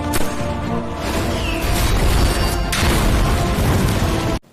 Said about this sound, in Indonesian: Tiba-tiba terdengar deru pesawat Amerika yang langsung membombardir garis pasukan tentara